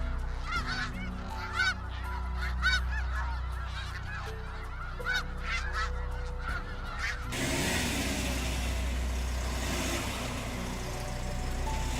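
Canada geese honk repeatedly in a busy, overlapping chorus over a steady low traffic rumble, the calls close and clear before giving way to broadband road noise in the last few seconds.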